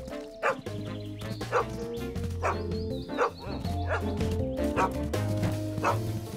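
A cartoon dog gives a series of short yipping barks and whimpers, spaced roughly every second, over a low musical backdrop.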